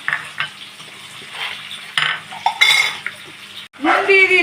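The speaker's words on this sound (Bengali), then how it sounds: "সবজিগুলো ভাজা হবে এখন।" Broad beans, potato and eggplant fry in a pan with salt, with short bursts of sizzling and scraping from stirring utensils against the pan, close and uneven.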